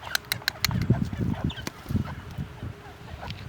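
Poultry in a coop being called to feed, with honking, goose-like calls and clucking close by in short bursts amid rustling and scattered sharp sounds.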